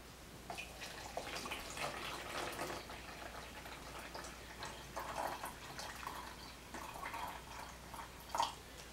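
Red and blue water is poured into a divided container for a weather fronts demonstration, giving a faint, steady trickle and splash with occasional drips.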